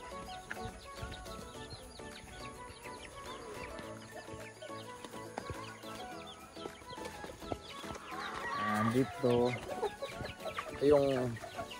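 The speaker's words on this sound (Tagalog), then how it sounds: "Dito yung kulungan ng mga manok." Chickens cluck and murmur near their coop, with a few louder squawks and calls toward the end over faint background noise.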